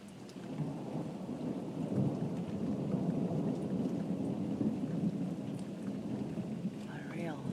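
Thunder rolling through a severe thunderstorm with steady rain, a long low rumble swelling and holding over continuous rainfall, with faint background sounds.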